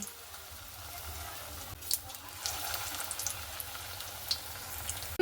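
Stuffed pointed gourd deep frying in oil, a soft steady sizzle with a few sharper crackles and small knocks, moderately close and fairly quiet.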